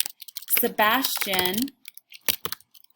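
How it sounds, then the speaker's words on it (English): Typing on a MacBook keyboard: a few quick, soft clicks come after a short stretch of nearby speech, then a brief burst of keystrokes near the end. "I'm sorry you're going to hear my typing, but I like to do this on my MacBook better than my iPad for now"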